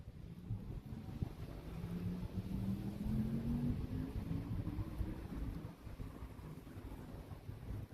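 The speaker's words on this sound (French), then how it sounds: "Voiture de chasseur." A hunter's car passes by outdoors, its low engine rumble rising and sweeping through over several seconds, muffled by steady wind buffeting the microphone.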